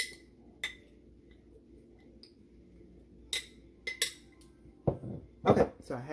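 A spoon stirs a pumpkin pie overnight oats mixture in a bowl, giving sparse, light clinks and scrapes against the bowl over a quiet background, growing busier and louder toward the end.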